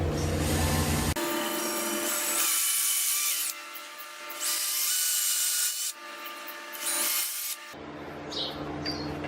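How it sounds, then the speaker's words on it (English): A drill bores a hole into a wooden cufflink blank mounted on a lathe, starting in a small bradawl dimple. The close, loud whirring grind rises and falls in several steady bursts, with no voices. "I've just made a little dimple with a bradawl so that it drills nice and easy at the beginning."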